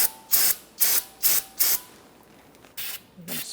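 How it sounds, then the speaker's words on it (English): Brake cleaner sprays onto a Buick Encore rear wheel hub in five quick, loud, close hissing bursts, followed by a few softer, shorter sprays. "You can use some brake pads cleaner to wash the hub."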